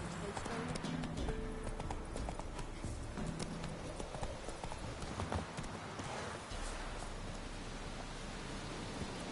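Horse hooves galloping in the video game The Witcher, quick rhythmic clip-clop beats running steadily under rustling ambience and occasional voices.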